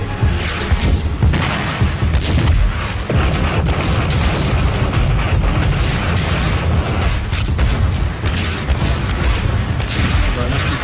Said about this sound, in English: The artillery started falling on Hushnia.